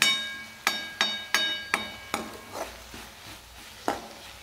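Onion being sautéed in a pan for spicy onion chutney, with a series of sharp metallic spoon taps and scrapes against the pan, about eight distinct strikes over a faint sizzle, close.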